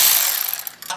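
A ratchet wrench clicks rapidly, close and loud, while loosening suspension bolts on a Jeep Wrangler during a lift kit install, in one short burst that tapers off.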